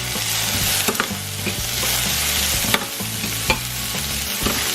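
Jalapeno peppers, seeds included, sautéing in a pan for a Filipino banana blossom dish, a steady close sizzle broken by several sharp clacks of a utensil stirring against the pan.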